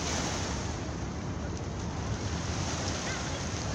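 Waves wash against the shore at a Brooklyn waterfront park, a loud, constant broadband roar of surf mixed with wind buffeting the microphone, with no clear pauses between the breaking water.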